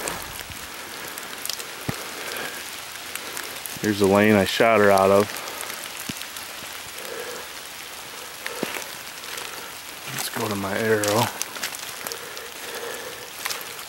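Steady rain pattering on a ground blind during a Michigan deer bow hunt beside a big oak, a soft even hiss throughout while someone speaks quietly in a hushed voice.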